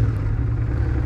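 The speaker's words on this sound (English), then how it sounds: "You want to hear the engine quickly?" A motorcycle engine idles up close in Japan, a steady low rumble with even throb and no revving, heard alone without speech.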